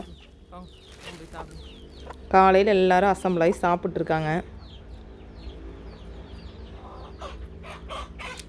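A chicken clucks loudly and repeatedly in a burst of short, squawky calls, with a person talking before and after and birds chirping faintly.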